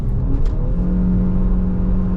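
A facelift Ford Kuga accelerates hard under full throttle, its engine rising in a loud steady drone with a sustained odd humming tone running through it, close and without talk.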